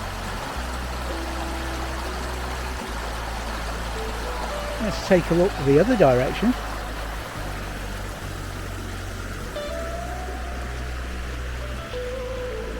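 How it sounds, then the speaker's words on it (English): A Highland burn, running a little higher than usual, flows in a steady broadband rush and trickle close by, with someone briefly talking over the water partway through and a low hum underneath. "there's a little bit more water in the burn than there was last time we were here"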